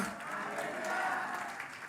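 Church congregation clapping together through a worship service in Batam, a steady dense wash of applause with some voices mixed in.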